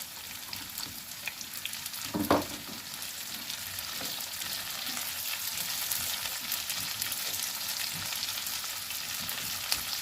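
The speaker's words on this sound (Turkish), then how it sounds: "Şimdi biberlerimi ve bir diş sarımsağım vardı onları ilave ediyorum." Onions, peppers and a clove of garlic fry in a pan for a spinach-stem and buckwheat dish, giving a steady close hiss with one louder sizzle burst near the start; no one speaks.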